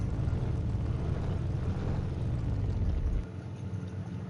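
Exhaust note of a shop truck in Car Mechanic Simulator 2021, a steady throaty engine drone that loud and rumbling, then drops to a quieter idle partway through.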